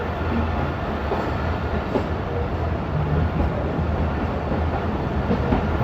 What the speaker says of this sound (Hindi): तेज़गाम 8 डाउन। डिपार्चर हो चुका है चकलाला रेलवे स्टेशन से